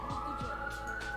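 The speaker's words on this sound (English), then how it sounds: "y'all can hear the police sirens going off" Police car sirens going off outside give a faint, steady wailing tone held through a brief moment, distant and muffled.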